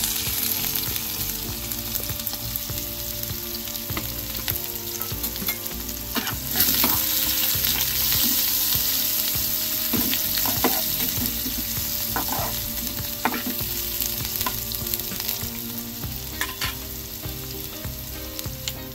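Garlic cloves, cumin seeds and chopped medium onion sizzle steadily in hot oil in a pan, with occasional scrapes and stirs of a spoon over a continuous close frying crackle.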